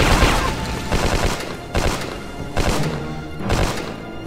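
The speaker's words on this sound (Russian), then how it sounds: "Куда стреляет? В кого стреляет?" Gunfire in the Hidden & Dangerous 2 video game at an airport mission: repeated loud bursts of shots and thumping impacts, four or five clustered volleys in quick succession with no talk.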